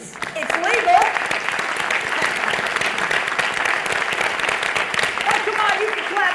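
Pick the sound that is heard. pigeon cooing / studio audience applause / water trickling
studio audience applause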